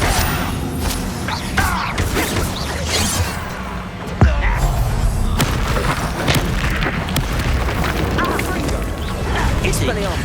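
Bombarda spell blast in Hogwarts Legacy, a heavy booming explosion landing about four seconds in amid a continuous clatter of spell effects, impacts and combat noise, with voices calling out through the fight.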